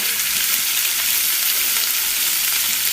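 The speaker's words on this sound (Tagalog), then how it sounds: "ilalagay na natin yung hili, yung maliliit na hipon. Tapos yan, ihahalo na natin." Small shrimp are stirred into simmering ginataang gabi, taro in coconut milk, giving a continuous loud, even hiss of bubbling and sizzling close up, with no speech.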